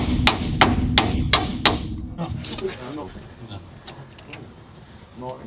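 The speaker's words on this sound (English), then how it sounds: "all you've got to do is whack them on the top with a ball peen hammer" A ball peen hammer strikes domed king pin caps on a 1934 Buick, five sharp metallic blows in quick succession, followed by quieter tapping and workshop handling sounds.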